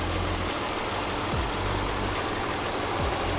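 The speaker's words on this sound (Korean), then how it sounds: "엔진 소리도 일정합니다" A Kia K7 VG270 engine idles steadily and loudly up close, a constant low rumble with a faint rhythmic ticking and no voices.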